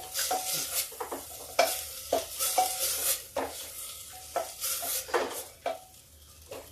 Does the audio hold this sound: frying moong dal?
yes